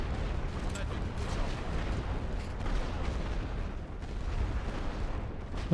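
Artillery pounds in The Great War: Western Front, a dense continuous rumble of distant booms and blasts rolling on without pause, with a voice talking faintly underneath.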